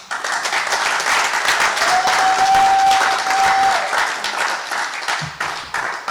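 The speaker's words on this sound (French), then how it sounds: "Applaudissez fort pour notre DG." Sustained audience applause at a closing ceremony in a national museum, a dense wash of many hands clapping steadily throughout, loud and continuous with no speech over it.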